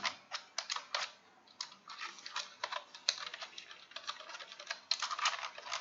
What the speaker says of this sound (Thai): โอเค ผมจะพิมพ์ให้เขานะครับ